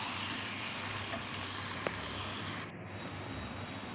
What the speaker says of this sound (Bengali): গরম তেলের মধ্যে চিকেন দিয়ে আর নেড়ে চেড়ে নেব।